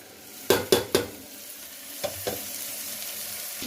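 A spoon knocks and scrapes several times around a pan where onion, ginger-garlic paste and turmeric are frying, three quick strokes then two softer ones over a steady low sizzle.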